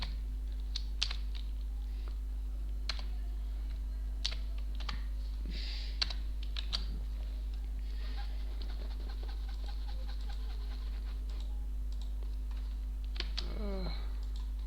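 Computer keyboard typing in scattered clicks and short bursts over a steady electrical hum, with a dog's faint whimpers and panting nearby and a brief rising squeak near the end.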